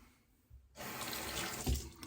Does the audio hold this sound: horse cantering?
no